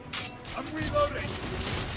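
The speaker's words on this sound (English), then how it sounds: "I'm reloading!" Gun reloading in The Order: 1886, heard as a few quick mechanical clicks and clacks in short bursts amid a noisy third-person shootout, with voices shouting nearby.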